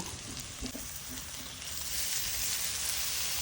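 Soaked soya chunks drop into a hot pan for a sadya-style dish and fry with a steady close sizzle that swells louder after a couple of seconds, with faint stirring scrapes early on.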